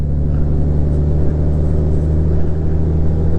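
A Honda Gold Wing DCT motorcycle cruises in fifth gear while the rider tries to upshift, its engine a steady, loud, low rumble under road noise with no change in pitch.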